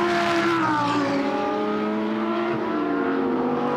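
A Lamborghini Super Trofeo race car at Spa-Francorchamps screams past at full throttle, its loud engine note sliding downward as it moves away, with continuous track noise and no talk.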